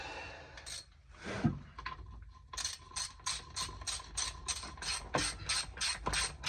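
Ratchet turning an 18mm socket while a Jeep XJ transmission mount and cross member are refitted, first a couple of scrapes, then a quick regular run of close, crisp clicking strokes.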